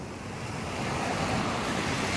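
Surf rolls onto White Beach in Puerto Galera, a broad, continuous wash of waves mixed with wind buffeting the microphone, steady and fairly loud with no one talking.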